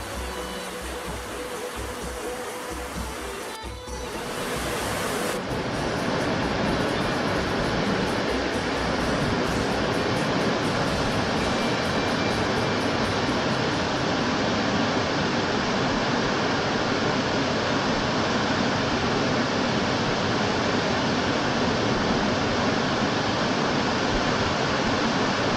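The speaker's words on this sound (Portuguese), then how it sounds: "Então tá aí, Cachoeira da Fazenda das Areias." Cachoeira da Fazenda das Areias, a waterfall in the hill country around Bom Jesus do Itabapoana, roars as a dense, constant wash of falling water, loud and steady throughout after a brief quieter opening.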